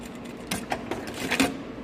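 Industrial sewing machine stitching in short bursts, a close mechanical whir and clatter rising and falling over a low steady hum.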